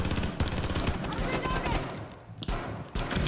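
Gunshots in the tactical shooter game Rainbow Six, sharp repeated cracks in quick bursts at close range, heard under excited voices.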